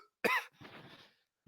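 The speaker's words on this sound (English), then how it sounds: "Shoot, I'm coughing like crazy." A person coughs once, a single loud harsh burst close to the mic, followed by a quieter raspy rattle of breath and a faint short catch at the end.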